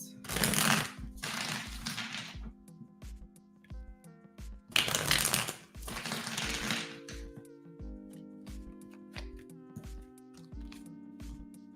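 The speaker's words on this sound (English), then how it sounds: "Let me pull a couple extra clarifying cards." Tarot cards are shuffled in two loud riffling bursts close to the microphone, followed by softer slides and taps as cards are pulled and laid down, over faint music in the background.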